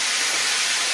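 Konjac rice hitting a hot skillet of coconut oil and butter gives a loud, dense, steady sizzle, close and continuous with no voice over it.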